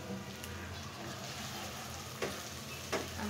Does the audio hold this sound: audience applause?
no